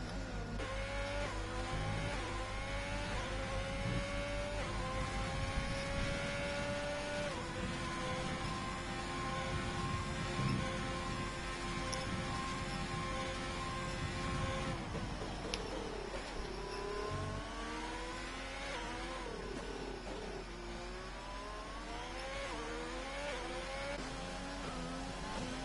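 Simulated Formula 1 race cars in a racing video game's qualifying session, several high-pitched engines whining and shifting gears continuously, some passing close and loud, with no talk.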